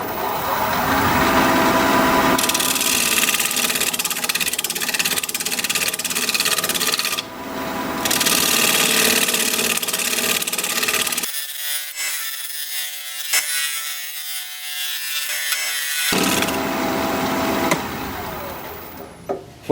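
Wood lathe spinning a bowl at about 1100 RPM while a 5/8 inch bowl gouge cuts: a steady hissing, rasping shear of the tool on wood, pausing and changing tone between passes, with the lathe's hum underneath.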